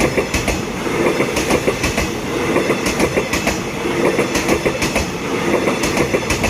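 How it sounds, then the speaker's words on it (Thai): Train wheels clatter loudly and close over rail joints in a steady rhythmic clickety-clack, with a constant rumble underneath. "โอ้โหฟังเสียงรางครับเพื่อน ๆ"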